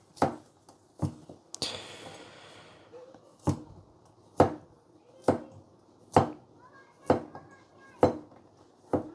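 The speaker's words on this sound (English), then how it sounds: "So it is very easy to do the pull and push cut with this knife." A Tsukasa Hinoura River Jump kitchen knife pushing and pulling through food on a cutting board, giving about ten crisp, evenly spaced knocks on the board with one longer rasping slice partway through, close and clear.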